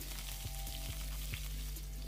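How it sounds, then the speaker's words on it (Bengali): Green beans fry in a pan with a steady, continuous sizzle, a few soft stirring knocks rising briefly above the hiss. "তো আমি বিনসগুলো ভেজে নিচ্ছি।"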